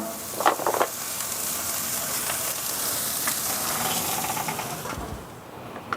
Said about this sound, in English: I'm going to go ahead and get the burgers on the grill.